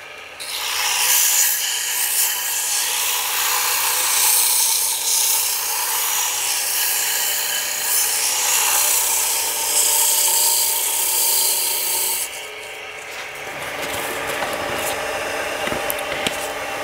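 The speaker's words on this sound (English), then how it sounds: "I'm starting off with 150 grit sandpaper." Sandpaper at 150 grit rubs against a wooden honey dipper spinning on a lathe at reduced speed, a steady close hiss and scrape that runs continuously before easing off and turning quieter and rougher near the end.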